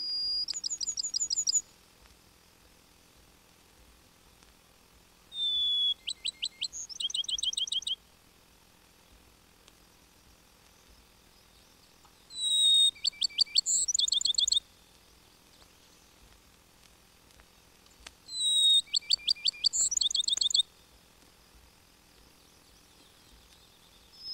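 A Bachman's sparrow, the pinewoods sparrow, sings four separate high, plaintive whistled phrases, each a short series of clear notes, spaced several seconds apart over a quiet background.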